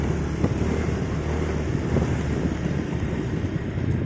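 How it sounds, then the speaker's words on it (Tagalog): Strong wind roars steadily across the microphone, a dense, continuous rumble with gusty buffeting and no voices. "Wala nga siyang ulan pero ang lakas ng hangin."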